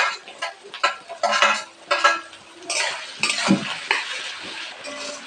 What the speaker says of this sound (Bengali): আলুটা ভাজতে একটু সময় লাগবে